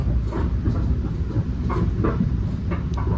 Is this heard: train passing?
yes